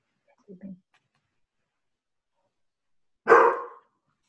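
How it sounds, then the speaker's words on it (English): Puppies bark indoors, a faint soft yip early on followed by a single louder, sharper bark near the end, separated by silence. "They're going to do that. They're puppies."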